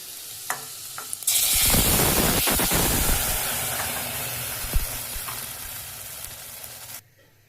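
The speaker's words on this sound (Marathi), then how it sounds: "डाळीला फोडणी दिली." A sudden loud sizzle bursts out as spice tempering hits hot oil over dal, crackling strongly and then slowly fading before cutting off; a few faint clinks come first.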